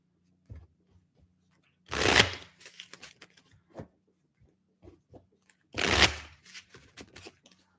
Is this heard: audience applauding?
no